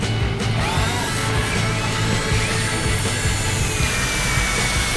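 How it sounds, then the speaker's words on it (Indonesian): A cordless brushless 12V drill bores steadily in a drilling test, giving one continuous, loud grinding whir that holds without a break for the whole few seconds, with no voices over it. "ini untuk pengeboran yang terakhir atau yang kelima"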